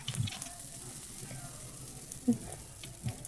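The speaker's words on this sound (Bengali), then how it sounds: "এবার এখানে মিশ্রণটা দিয়ে আমি ভেজে নেব" Spoonfuls of snack batter mixture frying in hot white oil in a pan, a quiet continuous sizzle with a few soft stirring knocks, close and faint, no talking.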